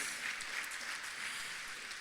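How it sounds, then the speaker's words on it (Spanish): Dense, steady applause from a church congregation during a Spanish-language sermon at Iglesia Vida, filling the whole moment evenly at moderate loudness, with no voices standing out. "bueno, den ese aplauso a Dios"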